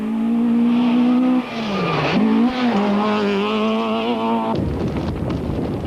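Class C touring cars, including a Toyota, race at the 1992 Tour De Total, engines screaming loud and close with steady high revs, a sweeping pitch dip as one passes, then a burst of broadband roar and tire noise near the end.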